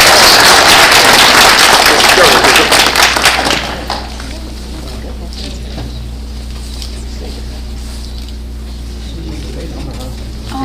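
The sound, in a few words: round of applause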